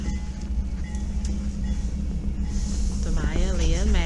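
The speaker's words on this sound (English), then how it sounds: "There's the train passing. The track's icy." A train rolls past on an icy track during a snowstorm, a steady low rumble with faint squeals that continues throughout, heard from a moderate distance while a person talks over it near the end.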